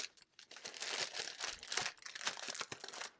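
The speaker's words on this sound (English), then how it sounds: "I try to do some of this crinkling off camera so you guys don't have to listen to it" Plastic bags of diamond painting drills crinkle and rustle continuously up close, with dense, uneven bursts of crackling handling and no talking.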